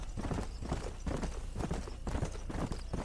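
Horse hooves clip-clop at a steady trotting rhythm in the western video game Red Dead Redemption, a continuous run of soft, close hoofbeats with no talking.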